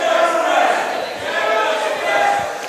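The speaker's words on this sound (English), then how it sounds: "Now the crowd chanting Pandaplex?" A wrestling crowd chanting at a live event, a loud, dense mass of voices rising and falling in a steady rhythmic swell.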